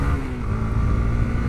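Honda CB150X motorcycle climbing a mountain road uphill, its engine droning and revving steadily at close range, with no talk over it.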